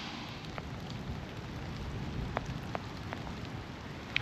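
Rain falling at the small Derbyshire village of Hopton, a faint, soft steady patter with a few sharper drips now and then.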